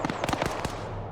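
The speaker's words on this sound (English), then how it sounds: "Grenades going off, damaging the tower." Grenade explosions in Arma 3, a rapid cluster of several sharp blasts and cracks that damage a tower, fading into a short decaying rumble.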